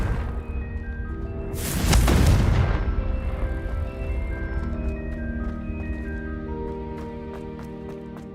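Confringo blasting spell going off in Hogwarts Legacy: one heavy, rumbling blast near the start of the clip that swells and fades within about a second, over a steady orchestral game score that continues afterward.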